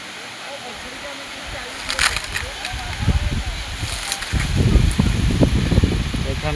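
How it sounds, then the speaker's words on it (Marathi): Water rushing steadily over a small village weir (bandhara) on a river, a continuous broadband wash that swells into louder surges partway through, heard close with no clear voices. "पाणी मस्त पडतंय बंधाऱ्याचं बघा."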